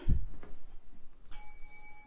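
A single bell struck at a temple altar during a ceremony with incense, a bright clear strike whose high ringing partials sustain evenly after a soft thump, moderately near in a quiet room.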